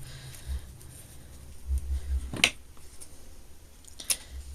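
Scissors snipping through a ribbon tail on a DIY fall bow, one sharp close cut in the middle and a second fainter snip shortly after, with quiet handling noise around them.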